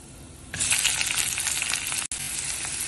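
Ginger dropped into hot oil in a pan, a sudden burst of sizzling that starts half a second in and holds steady and close, broken once by a brief cut, with no voices.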